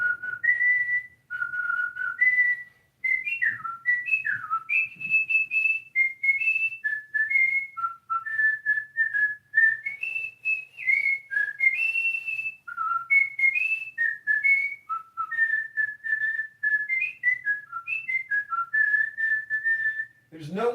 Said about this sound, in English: That was me whistling revelry.